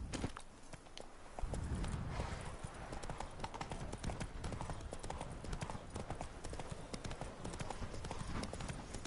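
Hooves clip-clop on the ground as a horse is ridden in The Witcher 3: Blood and Wine, a steady, fairly close walking rhythm with no music.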